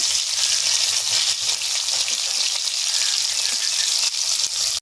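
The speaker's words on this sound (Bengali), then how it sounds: "মাছগুলো লাল লাল করে ভেজে নেব। এখানে মাছ আর একটু লাল লাল করে ভেজে নেব।" Tilapia fish pieces fry in hot oil, giving a loud, steady sizzling hiss that stays constant for several seconds with no talking over it.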